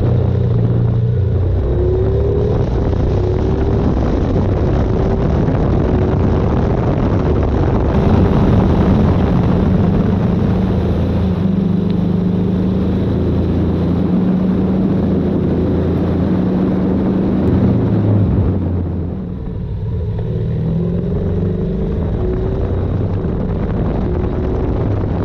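A 2024 BMW R 12 NineT motorcycle rides along at steady speed, its engine a constant loud drone mixed with heavy wind rush throughout, with no talk.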